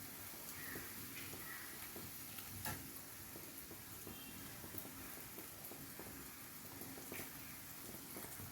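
Beaten eggs hiss and sizzle in a hot pan over pepper-seasoned ingredients, a soft, steady, faint frying crackle with occasional light clicks of stirring and no voices.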